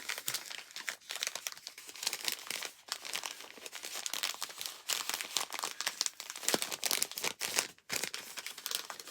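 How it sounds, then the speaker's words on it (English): Continuous crinkling and crunching of plastic packaging being handled and opened, close and fairly loud, with irregular bursts and brief tearing sounds throughout and no talking. "Sorry for crinkling, but that comes along with this."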